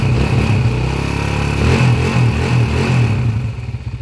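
A repaired motorcycle from Umingan, Pangasinan idles close by with a steady low engine hum, then revs with rising and falling pulses toward the end; no voices.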